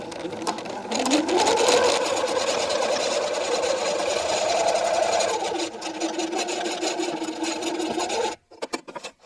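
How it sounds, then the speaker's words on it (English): A sewing machine stitches the French seam of a linen tank top, a continuous close mechanical whir that ramps up in speed and runs for about eight seconds before stopping abruptly, followed by brief handling clicks. "Next I'll just sew these up."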